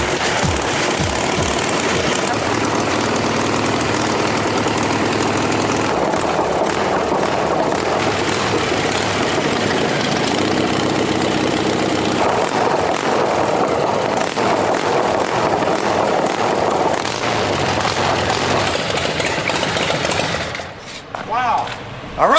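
An engine roars loudly and runs continuously with rough, rumbling mechanical noise, with voices faintly mixed in, cutting out near the end.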